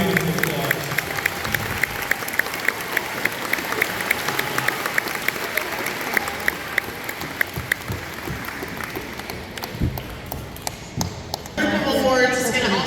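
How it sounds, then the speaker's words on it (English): Audience applause at a middle school spring band concert, a dense steady clapping from a crowd in a hall, loud and sustained before tapering near the end, where a voice starts speaking. "Big round of applause."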